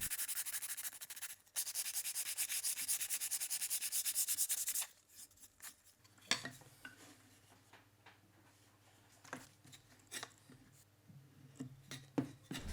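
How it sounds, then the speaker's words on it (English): Hand sanding of wooden mirror frame pieces with sandpaper: a loud continuous rough rubbing for several seconds, then quieter, irregular short scrapes and light knocks close by. "I'll remove some chips with sandpaper by hand"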